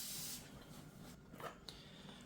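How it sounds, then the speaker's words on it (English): WD-40 sprays in a short hissing burst onto a freshly drilled steel surface during installation of bolt-on hooks on a tractor bucket, followed by a quieter faint hiss and small handling noises. "Now, I like to always spray some WD-40 on a fresh drilled surface just to make sure it's nice and clean."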